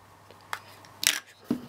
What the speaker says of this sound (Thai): เสียงชัตเตอร์น่าจะได้ยินแหละว่า มันมีความแตกต่างกัน